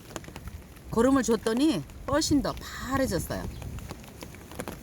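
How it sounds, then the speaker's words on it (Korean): Spring rain falls steadily over a vegetable field with waterlogged furrows, lettuce and spinach growing, a soft continuous patter under a man's close, clear speech. "여러분에게 이 빗소리 들려드리고 싶어서 제가 영상 켰거든요."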